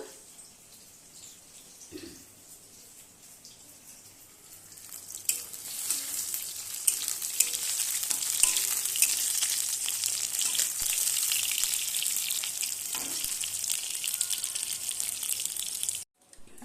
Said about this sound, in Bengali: বেগুনটা ভাজা হয়ে গেল